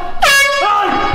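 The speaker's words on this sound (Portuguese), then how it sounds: "essa buzina é tão alta que vocês não têm noção" A loud air horn blasts once as a prank, a sustained harmonic honk lasting about a second, close and piercing.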